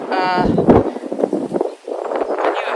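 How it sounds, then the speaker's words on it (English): Strong wind buffets the microphone outdoors at an allotment, a steady rumbling roar with gusty swells throughout, with a voice talking faintly over it. "It's extremely windy"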